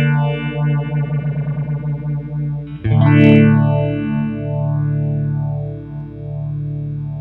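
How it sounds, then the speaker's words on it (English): Electric guitar played through a modulation effects pedal, its speed knob turned mid-play so the swirling sweep shifts from fast pulsing to slow, wide undulation; sustained chords ring loud and alone. "let's try changing this speed knob a little bit while Jeff is playing"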